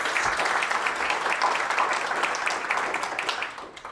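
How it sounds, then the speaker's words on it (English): A crowd at the ImpaCT Awards finalists announcement gives a round of applause for the award finalists. Thick, steady clapping runs for a few seconds and eases off slightly at the close. "let's give one more round of applause for Susan and our other finalists"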